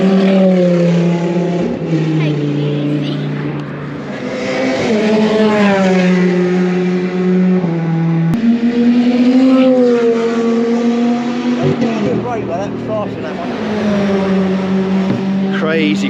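A Lamborghini and other race cars drive on the track at Goodwood, engines revving and rising and falling in pitch as they pass, loud and close, with the crowd and talk audible underneath.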